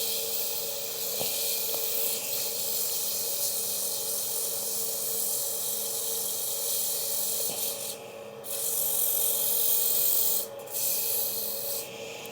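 A wooden wig stand being sanded by hand, continuous close rubbing strokes of sandpaper on wood with a few louder bursts near the end, no speech.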